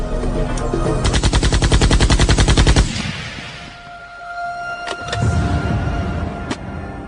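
A rapid, loud burst of machine-gun fire in an Irish mafia gang shooting on West 23rd Street rattles for about two seconds, then gives way to quieter rumbling noise with a few sharp clicks and impacts.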